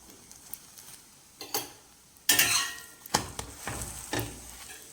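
Parotta frying in oil on a flat pan, with scattered sizzling bursts and clinks of a utensil scraping and tapping the pan, close and fairly quiet, no talking.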